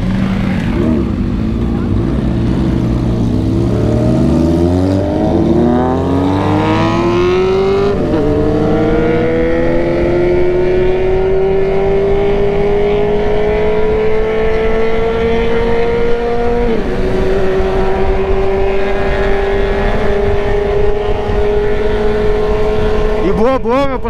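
Engine of a vehicle on a night ride revving up, its drone rising in pitch with a few gear-shift dips and then holding a loud, steady cruise close by, with no voices.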